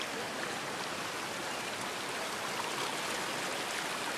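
Steady, close rush of creek water flowing near Hume Lake, a continuous broadband wash with no pauses and no voices.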